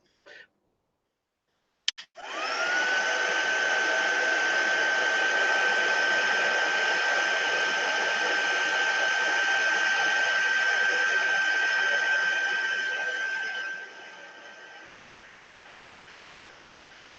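A hair dryer drying freshly painted watercolour sheets: a click, then a loud, steady close-up blowing whir held for about twelve seconds before it fades and drops to a softer hiss.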